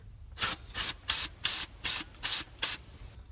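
Seven short, sharp bursts from a $5 aerosol can of cleaner sprayed onto grimy engine parts during a BMW X5 teardown, evenly spaced and loud, hissing alone with no talk.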